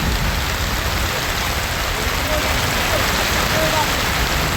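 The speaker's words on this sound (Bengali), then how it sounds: "বৃষ্টি প্রচুর বৃষ্টি" Heavy rain pours steadily across an open cattle market during Qurbani season, a dense, loud, unbroken hiss filling the whole scene with faint voices beneath it.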